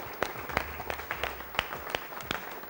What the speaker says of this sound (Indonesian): Berikan tepuk tangan yang meriah dong buat kita.